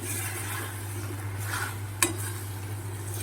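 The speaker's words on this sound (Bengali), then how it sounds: "যে বাটিতে ভেজে রেখেছি সমস্ত রকমের নাটসগুলো আমি দিয়ে ভালো করে এবার মিশিয়ে" Roasted mixed nuts and raisins are stirred in a pan, a low steady rubbing and scraping with faint sizzle and one sharp clink of utensil on metal partway through, under a constant background hum.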